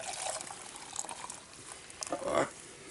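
Hot tea is poured outdoors in a freezing winter forest, a close trickling stream of liquid into a cup with a louder gurgling burst near the end.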